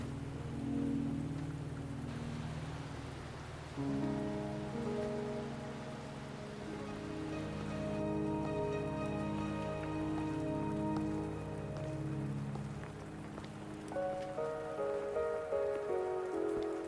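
Steady rain pours across a scene in the video game Wuthering Waves, a continuous dense patter on surfaces with a faint musical score layered underneath and no voices.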